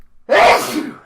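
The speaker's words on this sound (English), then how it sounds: "Guys, I sneeze so loud." A single loud, close sneeze bursts out abruptly and trails off over about a second, with no talking.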